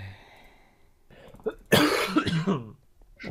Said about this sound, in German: ich huste schon seit Wochen.